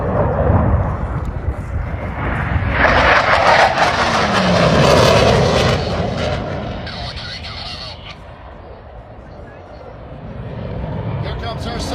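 F/A-18 Hornet fighter jets making a show of force pass with afterburner, a loud broadband roar that swells over several seconds, peaks, then fades into a lingering rumble.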